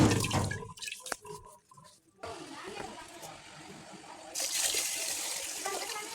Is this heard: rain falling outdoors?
no